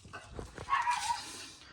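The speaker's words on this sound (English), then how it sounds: "the dog's barking" A few faint, distant dog barks, short and spaced apart, heard against a quiet indoor background.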